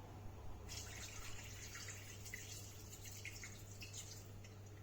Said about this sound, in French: je viens peser 200 g d'eau